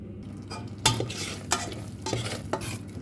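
Red curry paste and coconut milk simmering for a Thai pork bone curry, with a utensil stirring the pot in several distinct scraping strokes over a soft bubbling sizzle.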